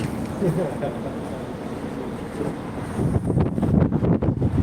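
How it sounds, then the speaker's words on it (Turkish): Strong, snow-cold wind gusts outdoors by a workshop in Yalova, buffeting the microphone with a steady low roar that grows louder and more blustery toward the end, with faint voices underneath. "Burası iyi esiyor ha. Vallahi iyi esiyor."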